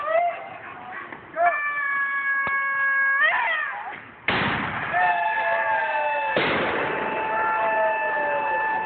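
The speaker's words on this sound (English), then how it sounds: "And play with fireworks." Fireworks go off on New Year's, with wavering whistling tones and two sharp bangs, loud and nearby.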